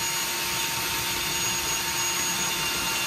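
A continuous, loud whirring drone of a power drill running steadily through a mount, with a constant high whine and no pauses.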